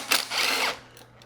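A power drill spins briefly on a 3/8 bolt on a Craftsman mower, one short whir followed by a longer steady run that trails off into faint spurts, close by and with no talk.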